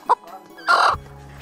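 A chicken gives a brief cluck, then a louder, drawn-out squawk, close by and alone.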